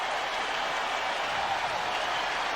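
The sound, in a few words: stadium crowd noise at the Superdome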